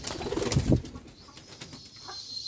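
Pigeons in a pigeon house holding five pairs of young and three pairs sitting on eggs, giving a few soft low coos early on, then faint bird sounds and chirps over quiet background.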